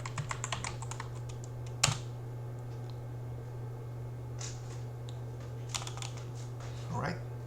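Keys clatter on a computer keyboard as a user password is typed, a quick burst of clicks at the start and scattered taps later, over a constant low electrical hum, close and fairly quiet with no talk.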